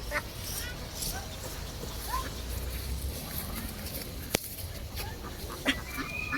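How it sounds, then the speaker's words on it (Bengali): Ducks on a village pond give faint, scattered honking quacks over a steady outdoor hiss, with voices talking in the background. "এই যে পুকুরে আমার হাঁস এখনো উঠেই নিকো"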